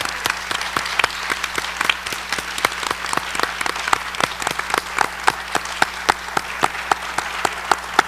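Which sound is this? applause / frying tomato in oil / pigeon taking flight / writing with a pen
applause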